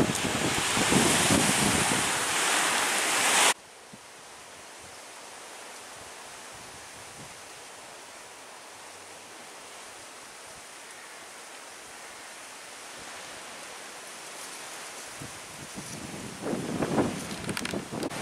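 Loud seaside wind on the Black Sea embankment at Kabardinka buffets the microphone at first, then drops to a steady, softer rushing hiss that gusts up again toward the end.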